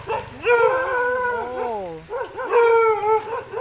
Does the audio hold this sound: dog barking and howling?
yes